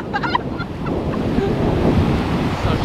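Ocean waves at a beach roll and wash steadily in a continuous broad roar with wind buffeting the microphone, plus a few faint bird-like calls near the start.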